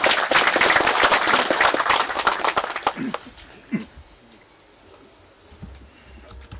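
Audience applause welcoming guests at an annual general meeting of a clan association held at a traditional head family house, loud and dense clapping for about three seconds before quickly fading into a quiet room.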